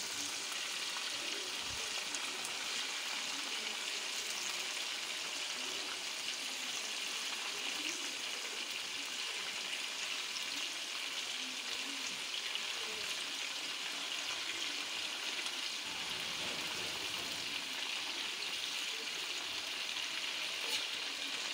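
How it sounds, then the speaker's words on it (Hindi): Chicken pieces for a black pepper chicken karahi sizzle steadily in a hot pan as they are flipped, a dense, continuous frying hiss with occasional soft scrapes and clinks from the turning, close and fairly loud throughout. "चिकन के पीसेस की साइड चेंज करते हैं"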